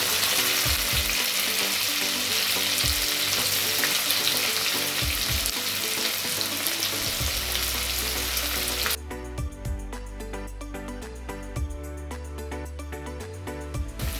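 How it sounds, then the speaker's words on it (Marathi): Finely chopped onion fries in a pan for a spicy Marathi egg curry, a dense, close sizzle with occasional low knocks from stirring, growing somewhat quieter and thinner in its final seconds. "आता हा कांदा फ्राय झालेला आहे"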